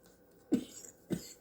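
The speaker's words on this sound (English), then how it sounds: "I'm coughing." Two short, sharp coughs from one person, spaced about half a second apart, close and fairly loud against a quiet background.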